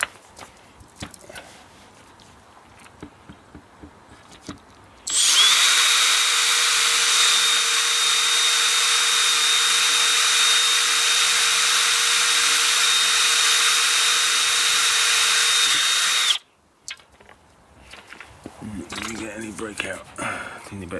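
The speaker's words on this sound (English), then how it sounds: "and then just drill straight through." A drill bores straight through the mounting holes of a replacement treadmill deck with a dull bit, a loud, steady whine lasting about eleven seconds that starts and stops abruptly, with quieter handling noises before and after.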